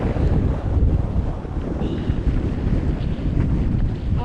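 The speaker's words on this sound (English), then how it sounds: "I say it's quite windy." Strong wind on a Scottish hillside summit roars and buffets the microphone continuously, a heavy rumbling gust with no letup, loud and close throughout.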